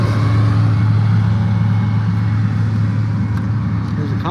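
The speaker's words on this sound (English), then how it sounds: "There's a convoy of them. There's multiples. What kind of truck is that?" A convoy of trucks rolls past on a road, giving a steady, loud engine and tire rumble up close. It continues without a break and no one speaks.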